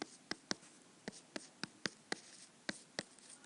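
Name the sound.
writing math on a board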